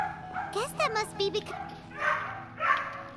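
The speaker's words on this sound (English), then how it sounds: "sorry about my dogs" Dogs bark and yip close by in bursts, heard over someone talking, with more talk following after the barking.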